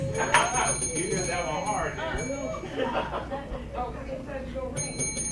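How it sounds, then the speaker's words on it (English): A bell rung by a contestant during a Bible Jeopardy game at a church Bible study, sounding as short, bright dings over people talking and laughing in the room. "Who rang their bell?"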